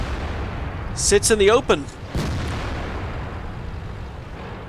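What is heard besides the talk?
tank cannon fire in World of Tanks video game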